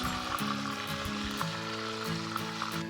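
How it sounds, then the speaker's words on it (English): Mexican pork stew bubbling and sizzling uncovered in a cast iron pot over a campfire, a steady, dense frying hiss with soft popping, close and continuous, no talking. "The pork stew has been cooking for about 10 minutes now with the lid off."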